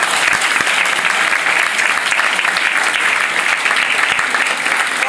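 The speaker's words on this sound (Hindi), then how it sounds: "आप सभी के लिए एक जोरदार ताली होनी चाहिए" A crowd at a network marketing training program gives loud applause, a dense and constant roar of many clapping hands at full strength throughout.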